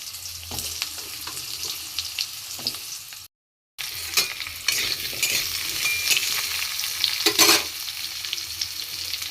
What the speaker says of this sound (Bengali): আলুগুলো কালো জিরে দিয়ে প্রথমে ভেজে নেব।